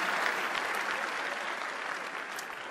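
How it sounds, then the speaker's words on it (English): Applause from a launch-event audience for Menno Vandenberg at Samsung Unpacked 2013, a steady, fairly soft wash of many hands clapping that tapers slightly toward the end, heard alone. "round of applause for Mr. Menno Vandenberg"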